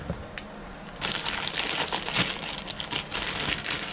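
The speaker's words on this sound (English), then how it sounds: "We're going to unwrap the knob." Plastic packaging crinkling and crumpling as a storeroom-function door knob for an auto-locking restroom door is unwrapped, a dense close rustle that starts abruptly after a quiet second and continues steadily.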